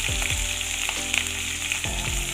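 Green chillies and crushed ginger sizzle steadily in hot oil for a ginger lemon rasam, a close, continuous frying hiss with a few brief stirring knocks, no voices.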